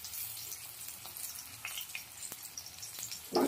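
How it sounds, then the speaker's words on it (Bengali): Raw banana koftas frying in hot oil, a steady close hiss and crackle that runs without pause, with a soft clunk near the end. "দেখো উল্টে পাল্টে হালকা লাল লাল করে ভাজা হয়ে গেছে।"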